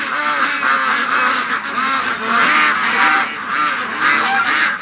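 Several ducks being raised for charity quack and honk continuously and loudly at close range, a dense overlapping chorus of calls with no talking.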